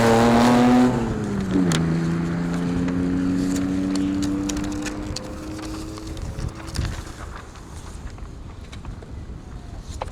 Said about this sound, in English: Now, one of the last runners, 97, that beautiful Renault Alpine A310 of Jim Valentine.